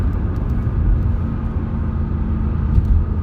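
Pontiac GTO V8 engine braking steadily while downshifting, with no brakes used; a continuous low rumble with a slight swell near the end, close and loud, and no talk over it.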